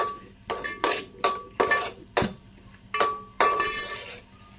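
A spoon stirs and sautés pasta sauce with Schezwan chutney in a pan, giving repeated scraping clinks of utensil against metal in an uneven rhythm, close and fairly clear, with no talk.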